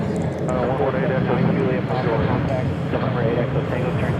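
Southwest airliner climbing out from the center runway at Nashville, a loud, continuous engine roar close by with a person talking over it throughout.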